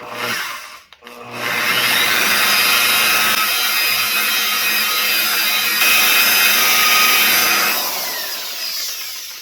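A car paint polisher runs at low speed against automotive paintwork during scratch correction, a close, loud, steady whirring rub that starts after a brief pause and fades near the end, with no talk.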